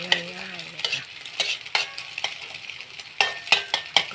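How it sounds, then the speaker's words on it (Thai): Beaten eggs stirred in a bowl, the utensil clinking and tapping against the sides in a run of sharp, irregular knocks, up close and otherwise quiet. "แล้วก็คนคนให้มันเข้ากันนะคะ"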